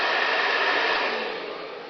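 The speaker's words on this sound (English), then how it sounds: "This is a hair dryer, guys." An 1800 watt hair dryer runs steadily at close range, a loud continuous airy whoosh with a faint whine, easing slightly softer toward the end.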